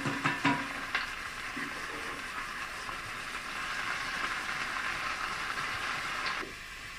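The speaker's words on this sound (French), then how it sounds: "Quand l'huile est chaude, on met la marinade à griller." Marinade sizzling steadily in hot oil in a pan, a dense crackling fry with a few sharp clatters of stirring near the start, continuous and close until it drops off near the end.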